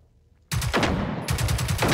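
Automatic gunfire from a weapon in the video game Generation Zero starts abruptly after a quiet moment and runs as loud, dense rapid bursts, close up and continuous.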